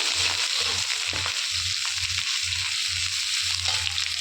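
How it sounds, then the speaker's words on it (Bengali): Chopped ginger fries in a pan with panch phoron spices, a bright steady sizzle over a regular low rhythmic thumping, close and continuous with no talking. "আদাটা দিয়ে হালকা ভেজে নেব"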